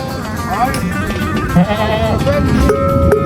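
Goats bleat during a Yörük nomadic migration, several wavering calls overlapping one another close by over a steady outdoor background rumble.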